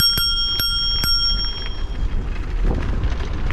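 A hire bike's bicycle bell rings three times in quick succession, close and bright, followed by rumbling road and wind noise as the bike moves along.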